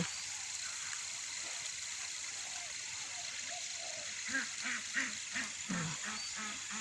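Ducks quacking in a short series of bursts over a steady background hiss as water is released into a garden, moderately distant, growing busier toward the end.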